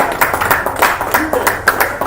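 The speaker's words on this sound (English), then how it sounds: "Oh, they deserve a round of applause." Uneven clapping from a modest crowd at a racetrack drivers meeting at Road Atlanta, distinct individual claps pulsing irregularly rather than a full roar.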